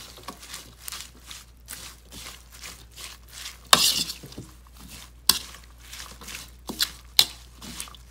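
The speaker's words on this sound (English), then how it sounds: "Now I am mixing my greens with all my vegetables." Salad greens are tossed with vegetables in a bowl, giving soft rustling, stirring and squishing sounds with a few sharper clicks, close by and without speech.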